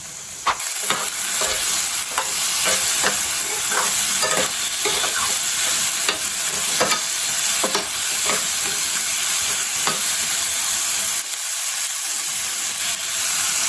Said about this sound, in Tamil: நல்லா வதக்கிடணும் நல்லா வதங்கட்டும்